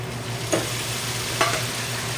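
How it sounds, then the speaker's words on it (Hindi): Tomatoes frying in a pan with chilies and garlic for a Punjabi eggplant bharta, giving a steady broadband sizzle with two brief louder bursts as the pieces drop in; no voices. "अभी इसके अंदर इंशाल्लाह टमाटर डालते हैं।"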